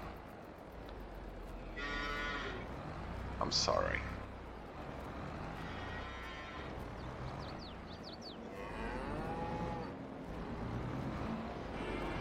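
Farming Simulator 22 cattle moo in bursts over a busy backdrop of engine rumble, with someone talking over much of it.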